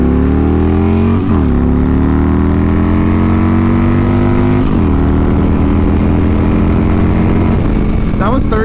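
Harley-Davidson Dyna with a Twin Cam 88 engine accelerating hard through the gears, a loud close rumbling exhaust rising in pitch, dropping at each of two quick shifts and climbing again into third.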